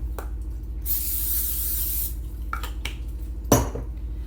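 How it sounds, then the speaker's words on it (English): A cooking oil spray can hisses steadily for about a second onto the bottom of a baking dish, followed by light clinks and taps of the dish being handled nearby. "I'm going to spray it with a little bit of oil just down on the bottom"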